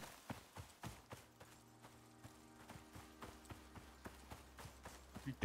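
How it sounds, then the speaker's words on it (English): Horse hooves clip-clopping on the ground in the survival video game Icarus, a faint irregular run of soft thuds over a low steady hum. "Here's the horse."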